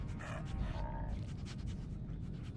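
Dogmeat, the dog companion in Fallout 4, pants in quick, steady breaths close by, over a low rumbling game background with no talk.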